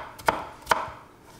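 Two sharp knife chops land on an onion on a cutting board for a Brazilian moqueca, close and distinct, about half a second apart, with no talk.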